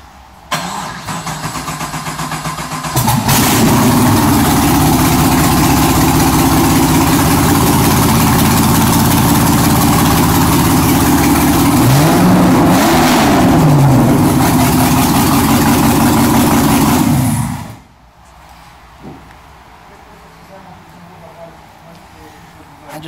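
A Chevrolet LS7 V8 on an engine test stand cranks and fires, then runs loud and steady with a brief throttle blip rising and falling midway before shutting off abruptly, leaving quiet room noise.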